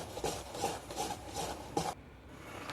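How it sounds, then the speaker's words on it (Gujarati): Idli batter with a spoonful of oil stirred in a bowl, making a soft, steady rhythmic rubbing and scraping in regular strokes, close and quiet, ending in a short pause. "હવે મેં બેટરમાં 1 પાવડું તેલ ઉમેર્યું છે હોતેન. તો તે આપણે બધું મિક્સ કરી લઈશું."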